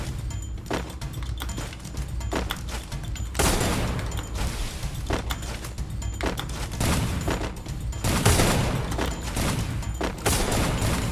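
Gunfire in the video game Free Fire: dense, continuous bursts of rapid shots and booms fill the whole stretch at steady loudness, with no speech over them.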